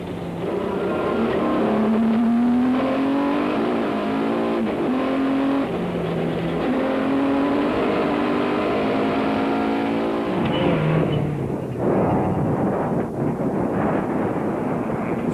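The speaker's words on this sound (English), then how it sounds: "Hannes Grobler and Richard Leek continued carving their way through the field in the proudly South African Nissan hardbody" A Nissan Hardbody Class T rally truck races in the Tarka 400 off-road event in 2003. Its engine revs hard and close, the pitch climbing and dropping as it shifts through gears, with wind buffeting over the roar.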